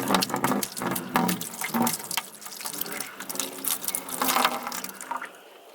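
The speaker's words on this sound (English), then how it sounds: "and pour it into my 5-gallon bucket." Maple sap pours from a bottle into a 5-gallon bucket outdoors, a steady splashing trickle with several louder surges, close and continuous for a few seconds before tapering off.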